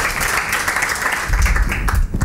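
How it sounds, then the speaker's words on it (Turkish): Applause from a studio audience at the opening of a Turkish comedy show, sustained clapping with a low rumble building partway through, fairly loud and continuous. "Büyük bir alkış alalım seyirciden lütfen."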